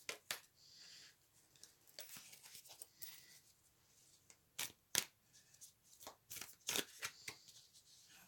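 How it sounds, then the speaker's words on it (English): A deck of Wild Unknown tarot cards being shuffled by hand, quick riffling and slapping bursts in an uneven rhythm, close and fairly quiet with no talking. "now I'm going to pull out of the Wild Unknown cards and see if I can get clarifying cards"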